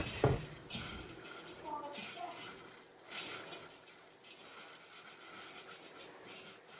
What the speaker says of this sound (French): je vais venir mélanger pour m'assurer que chaque grain est enrobé d'huile